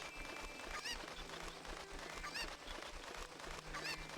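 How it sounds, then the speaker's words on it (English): Chickens in the Zelda: Ocarina of Time video game give repeated squawking clucks every second or so over a steady, dense game background. "you got the chickens."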